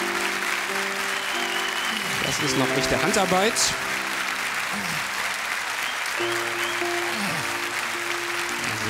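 Studio audience applause runs steadily through a TV game show round of cow milking, a continuous bed of clapping beneath someone talking and some music.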